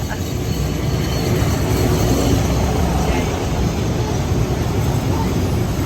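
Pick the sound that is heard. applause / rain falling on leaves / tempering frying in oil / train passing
train passing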